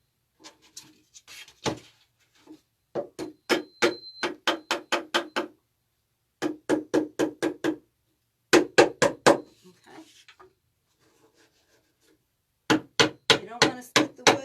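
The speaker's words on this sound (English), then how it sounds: "what helps when you're putting these together is a little hammer. So you can just like knock them in." A small hammer taps wooden pieces together in quick bursts of rapid, sharp knocks separated by short pauses, close and fairly loud.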